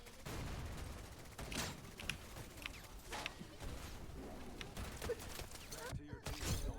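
Scattered gunfire in the video game Wild Assault, distant and quite faint, with irregular shots and short bursts over a constant noisy battle ambience, and a sharper close shot near the end.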